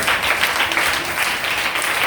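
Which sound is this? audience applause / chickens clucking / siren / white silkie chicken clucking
audience applause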